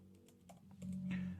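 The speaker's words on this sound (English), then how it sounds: "I just click on Heading and I start to type." Quick typing on a computer keyboard, a few soft close key taps followed by a brief burst of denser clicking, faint and without talk.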